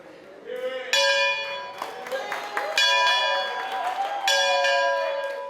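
A school victory bell rings at a high school graduation ceremony, sounding repeated bright metallic strikes with long ringing overtones, loud and close, with faint crowd murmur and scattered clapping beneath.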